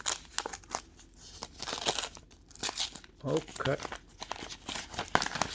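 A gift card envelope is torn open by hand, with crinkling paper and several quick rips in bursts, close up, while someone speaks briefly.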